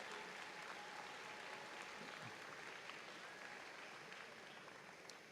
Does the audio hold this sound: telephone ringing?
no